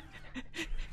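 Dog-like creature panting in Ark Survival Evolved, a short burst of quick breathy pants, fairly quiet and alone.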